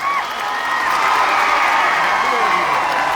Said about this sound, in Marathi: एवढा टाळ्यांचा कडकडाट, टाळ्या मुंबईपर्यंत आणि दादांचं भाषण दिल्लीपर्यंत गेलं पाहिजे.